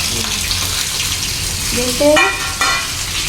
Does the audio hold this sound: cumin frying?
yes